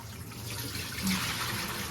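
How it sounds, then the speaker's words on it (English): Water being poured out of a cooking pot of smoked turkey, a steady close splashing stream that swells briefly midway, with no talking. "I'm actually going to pour some of this water out"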